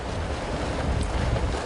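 Steady wind buffeting a microphone outdoors at a triathlon race, a dense, continuous roar with no pauses and no voices.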